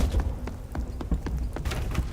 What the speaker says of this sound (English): Try to bait out some more footsteps.